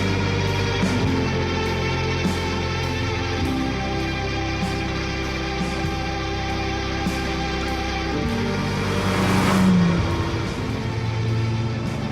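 A 1964 Ferrari 275 GTS drives along, its engine a loud, steady, continuous drone with a slight swell near the end, and no voices.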